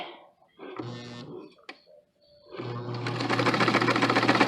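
A sewing machine top-stitching a Simplicity 8519 pattern garment runs in short starts, then builds into a steady, fast mechanical whirring stitch that grows louder toward the end.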